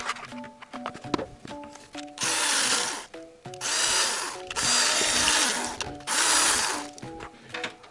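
Power tool whirring in several sustained bursts while loosening the 10 mm valve cover nuts on a Honda Civic D17A/D15B engine, with clicks and handling clatter of the parts between runs, close by.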